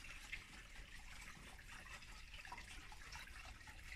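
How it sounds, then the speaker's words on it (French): Faint, steady trickle of water from a small fountain in a Christmas nativity scene, a soft continuous flow, quiet and uninterrupted. "Tiens, là, ça coule l'eau."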